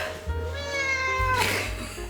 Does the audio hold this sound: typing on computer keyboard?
no